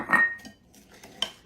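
Chocolate fudge pie filling with melted butter is stirred in a bowl, giving a few brief clinks and scrapes of a utensil against the dish amid quiet pauses.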